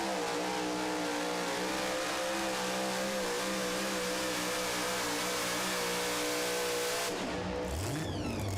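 A Super Mod 2wd truck in a tractor pulling competition, its engine roaring loud and continuous at high revs, the pitch holding steady and then dropping sharply near the end.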